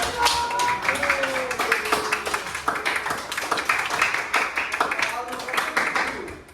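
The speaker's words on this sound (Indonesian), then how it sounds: "tepuk tangan untuk kelompok" Students in a classroom clap for a group of classmates, a dense patter of hand claps running steadily throughout, with voices and chatter mixed in underneath.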